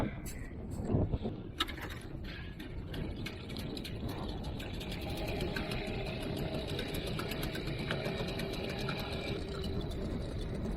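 A small boat outboard motor on a lake starts after a brief rattle, then runs at a steady, buzzing idle close by, continuous and fairly loud with some scraping underneath.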